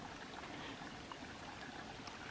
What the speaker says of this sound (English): If you can call that seep a waterfall.